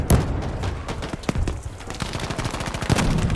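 Rapid bursts of gunfire in the video game Battlefield V, dense repeated shots, loud and continuous, like an intense firefight.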